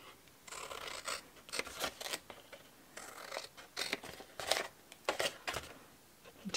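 Scissors snip through paper for a handmade birdhouse gift box, close crisp cuts in uneven bursts with short pauses between strokes.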